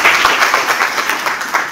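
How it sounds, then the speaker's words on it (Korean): An audience claps together loudly and steadily at a panel discussion on ESG supply chains for small businesses, a short, dense burst of applause with no voices. "박수 한번 다시 보내주시기 바랍니다."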